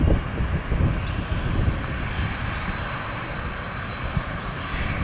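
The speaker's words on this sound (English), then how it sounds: "this is a 787-9" Boeing 787-9 Dreamliner on the runway at Toronto Pearson, its jet engines giving a steady, broad distant roar with low rumble throughout, no talk.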